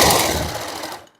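An electric sewing machine runs a short burst of rapid stitching on a suit, loud and close, then stops abruptly after about a second.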